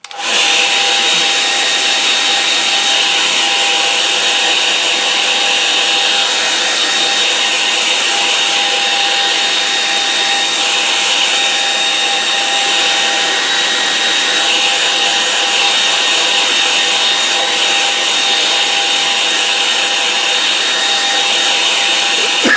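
A hair dryer blows steadily on a wet line-and-wash watercolour painting of a flooded field, a loud, continuous close whir with a high whine that holds unbroken throughout, with no talking.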